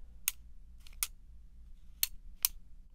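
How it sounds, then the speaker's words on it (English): A Kenner 3 3/4-inch R2-D2 action figure's dome gives five sharp, separate plastic clicks as it is turned, close and crisp against a quiet room hum, with no talking. "the dome still clicks when you do turn it"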